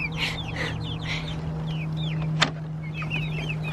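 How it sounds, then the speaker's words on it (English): Chickens in a backyard flock with several roosters and hens, with chirpy clucking calls repeating over a steady background hum and one sharp click midway. "There's a rooster right there."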